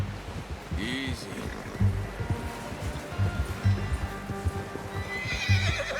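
Horse in Red Dead Redemption 2 whinnies with a rising neigh near the start, then hooves clip-clop steadily through the rest, close and fairly loud, with game ambience and some voice underneath.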